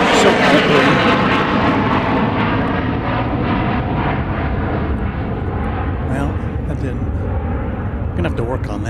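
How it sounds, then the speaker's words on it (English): A small jet taking off at Dallas Love Field: a loud, steady, broadband engine roar that holds close and strong throughout, easing only slightly toward the end. "Let's see if we can get a takeoff here. I haven't tried this yet. These small jets go so far up, so quickly."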